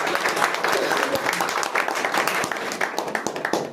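Audience at a carrom club tournament prize distribution applauds, a dense steady burst of clapping from a nearby crowd lasting throughout.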